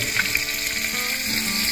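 Food frying in a pan on a home stove, a steady close hiss and crackle running evenly throughout with no voices.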